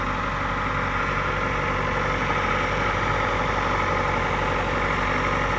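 1995 Geo Tracker 5-speed 4x4 with a 16-valve engine idling, a steady, even hum close to the microphone, running alone for several seconds with no talking.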